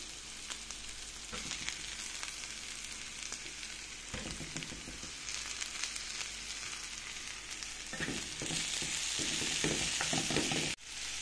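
Red onion with mace sautéing in a pan as tomatoes go in for butter chicken gravy, a steady close sizzle and crackle with occasional stirring scrapes, growing louder and brighter toward the end, with no talking.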